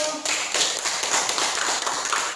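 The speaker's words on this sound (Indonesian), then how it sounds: "Beri tepuk tangan untuk kelompok 1" Classmates in a school classroom clap for a student group after a science experiment presentation, a short burst of brisk, fairly close hand claps filling the room.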